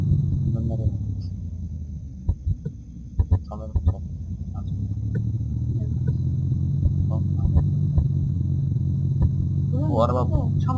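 A car engine in the video game Unturned idles and revs in a steady low hum, under someone talking in Turkish and a few sharp clicks.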